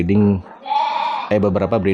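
Dorper sheep lambs bleating in a breeding pen, a long wavering bleat followed by a second run of bleats, close and loud.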